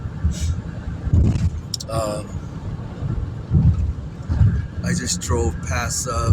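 A car drives along a highway near Flagstaff, its low road rumble and wind noise running steadily underneath a person talking throughout.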